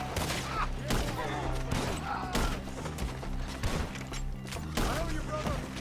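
Gunfire during a Red Dead Redemption 2 shootout, with loud repeated shots landing every second or so over a busy game soundtrack, and faint voices mixed in.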